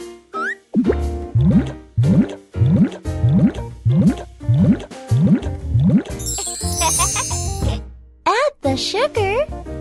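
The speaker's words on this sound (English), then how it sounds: "Pour the milk." Milk pours in repeated rising glugging fills in a Pororo children's cooking game, a rhythmic series of gurgling bursts followed by bright jingling game chimes, with a voice speaking among the effects.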